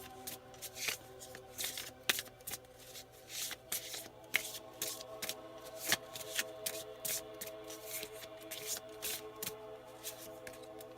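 Oracle cards are shuffled and drawn by hand, making quick repeated riffling and flicking snaps in irregular bursts, close and fairly quiet, with no speech.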